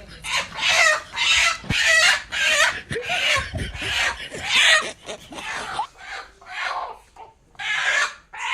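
A chicken clucks and squawks loudly and close by in quick repeated bursts, with agitated, fluttering calls coming one after another.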